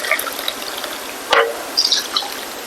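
Hot water pours onto rice in a pot as it is prepared for steaming. A steady, light splashing trickle runs throughout, with a brief louder gush in the middle and a few splashy bursts near the end.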